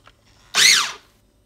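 A Cuisinart Mini Prep Plus food processor spins up on its chop setting, a loud motor whine with a rising-then-falling pitch lasting about half a second before cutting off, with nothing else heard around it.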